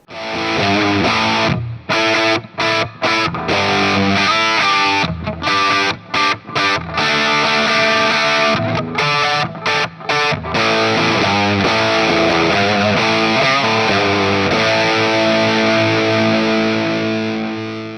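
A heavily distorted D'Angelico Bob Weir signature electric guitar plays loud chugging chords and riffs with abrupt stops, then rings out in sustained, fuzzy tones.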